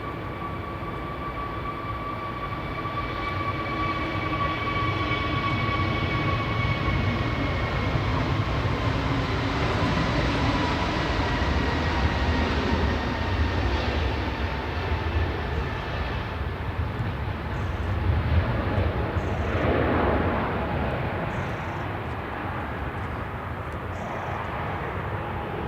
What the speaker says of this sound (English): EasyJet off to Antalya there. GUZ-MA, A321neo for EasyJet.